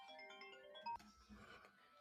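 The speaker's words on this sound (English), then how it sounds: "Sorry about that phone call." A mobile phone ringtone plays quietly during a recording, with a short run of melodic electronic tones and a brief louder beep, then faint room noise.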